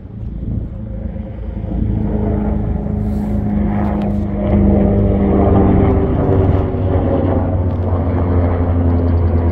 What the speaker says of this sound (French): Hélicoptère